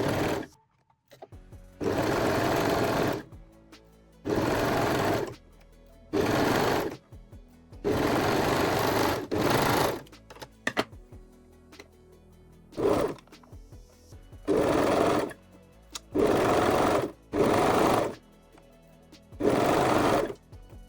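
A serger sews bralette cups together in about nine loud bursts of rapid whirring stitching, each lasting a second or so and separated by short pauses.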